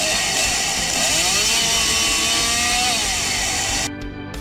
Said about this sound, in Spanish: ya escuchamos cómo traen la motosierra